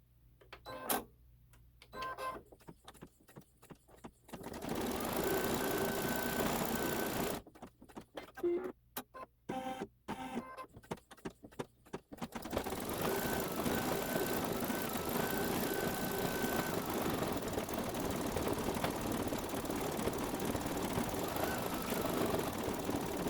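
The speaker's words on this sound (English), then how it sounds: "Now we're going to stitch out the head." A SweetPea embroidery machine stitches out a design with a rapid mechanical chatter and needle clatter. Short bursts with pauses give way to a long continuous run, all close and fairly quiet.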